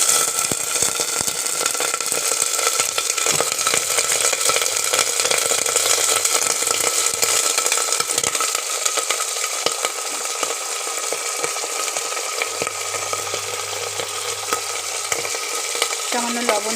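Cauliflower florets and whole potato chunks fry in a little oil inside a pressure cooker for khichuri, giving a steady close sizzle with scraping stirs throughout and a low hum underneath.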